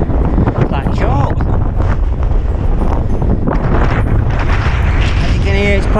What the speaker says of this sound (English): As you can hear, it's getting really windy now.